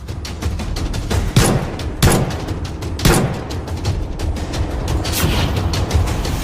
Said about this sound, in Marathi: गोळीबारात ट्रम्प थोडक्यात बचावले